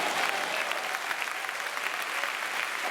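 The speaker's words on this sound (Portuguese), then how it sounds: "Você pode aplaudir aí?" Church congregation applauding during a sermon, a dense, continuous wash of many hands clapping at steady volume from within the hall.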